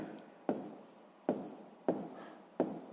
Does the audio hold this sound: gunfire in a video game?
no